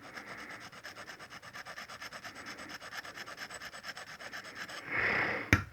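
Steady rhythmic rubbing strokes scrape soot off a surface, an even back-and-forth sanding rasp repeating many times, then a short louder scuff and a sharp knock at the end.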